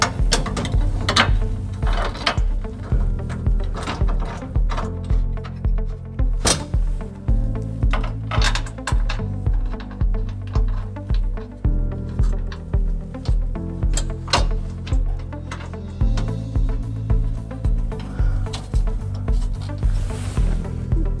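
Bolts being threaded back into a 2006 Toyota Tacoma trailer hitch with a ratchet, a rapid repeated clicking in bursts with short pauses, close and fairly loud, with no one talking.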